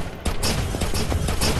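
A quick burst of rapid gunfire in the video game Metal Slug, several sharp shots in close succession, loud and without talk.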